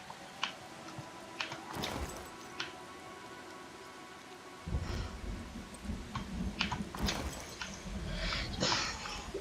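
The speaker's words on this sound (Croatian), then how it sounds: "Joj, pada kiša" Rain falls in the survival video game Once Human, a steady wash of drops that swells louder partway through, with a few sharp cracks and rumbles suggesting thunder, heard without talk.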